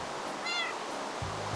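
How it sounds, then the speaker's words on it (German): A cat in the Minecraft video game meows once, a short clear mew over a steady background hiss, followed by a low hum. "Das ist unsere zweite Katze."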